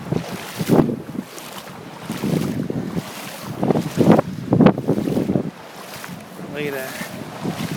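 Hurricane Sandy winds blowing hard along a New Jersey shore street, a steady roaring rush with buffeting microphone gusts and surging surf noise, while someone talks intermittently over it.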